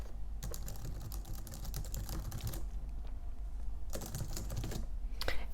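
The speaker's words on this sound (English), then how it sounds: "here's me typing on this keyboard" Typing on a quiet backlit computer keyboard, with rapid soft key clicks in bursts, near and steady, and a low hum beneath.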